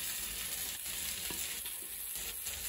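Coriander and fennel seeds dry-roast in a pan for a Kokan-style crab curry, a continuous close sizzle broken by a few scraping stirs, with no talking.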